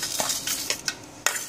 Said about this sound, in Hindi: सबसे पहले हम इसमें खड़ा मसाला डालेंगे